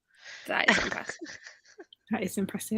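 A single sharp sneeze bursts out close to the microphone, followed by a short pause and then a voice speaking.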